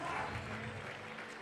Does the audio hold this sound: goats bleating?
no